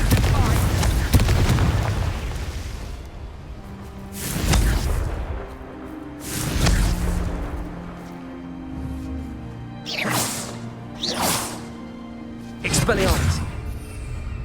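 Confringo blasting spells detonate in Hogwarts Legacy with repeated loud booming bursts and swooshing blasts, several impacts spread out over the stretch, mixed with other spell effects and a voice talking in between.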